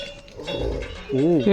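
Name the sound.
herd of cattle passing, cowbells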